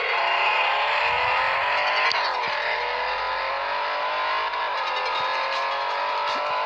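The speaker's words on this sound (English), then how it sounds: "Goodness, this is a fast Aston Martin." A fast Aston Martin race car in the Real Racing 3 video game, its engine screaming loudly and steadily at high revs with pitch shifts as it changes gear, with no talk over it.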